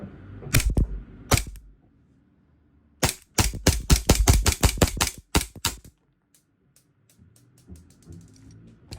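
A WE Hi-Capa 5.1 gas blowback airsoft pistol fires two sharp single shots, then a fast string of about a dozen loud cracks, each with a clacking slide, followed by faint handling clicks.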